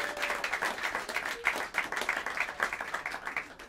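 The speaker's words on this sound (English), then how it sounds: "A round of applause to Peter Slavov on the bass." At a jazz club, the audience claps for the bassist, a steady crowd applause with a few sharper individual claps standing out near the listener, gradually thinning toward the end.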